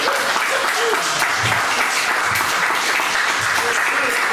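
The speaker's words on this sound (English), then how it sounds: "What a pathetic fucking round of applause." Audience applause at a comedy show in Bath, a loud, steady, full wash of clapping throughout with a faint voice buried underneath.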